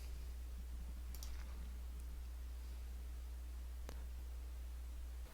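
A computer mouse clicks a few times, faint and close, over a steady electrical hum and low hiss while importing a virtual machine in VirtualBox.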